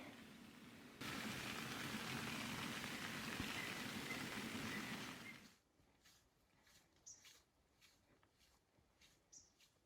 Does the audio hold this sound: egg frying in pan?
no